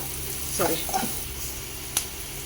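Cumin powder briefly fries in hot oil for a vegetable kurma, a low steady sizzle with a couple of soft spoon clinks and one sharp tap, heard close and without talking.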